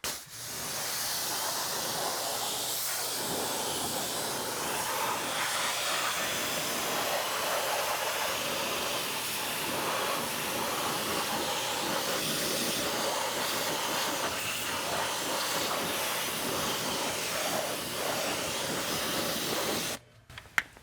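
A water spray rinses a car wheel in a touch-free cleaning, a loud, steady hissing blast that continues almost unbroken for twenty seconds before cutting off abruptly, with no talking.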